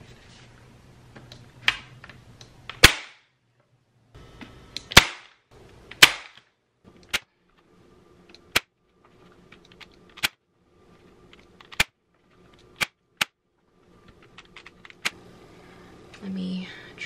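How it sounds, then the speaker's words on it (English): A staple gun fires fabric down onto a thrifted bench being reupholstered, giving a series of sharp, isolated snaps spaced a second or two apart, close and crisp, with faint handling noises between shots. "First is I am going to staple down 4 center points right here."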